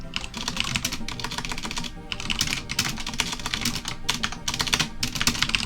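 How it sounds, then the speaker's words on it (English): Rapid, steady typing on a computer keyboard at a UNIX System V terminal, the keystrokes clattering continuously and close with no talking. "if I can type here"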